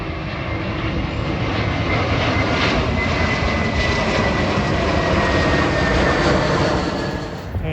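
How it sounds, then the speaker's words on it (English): A JetBlue airliner from West Palm Beach, Florida passes overhead with a loud, sustained jet-engine roar that swells slightly and then fades at the very end. "Here comes JetBlue from West Palm Beach,"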